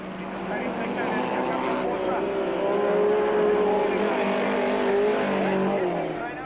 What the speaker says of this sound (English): Leek is still leading the production vehicles. He's being lapped by Carolyn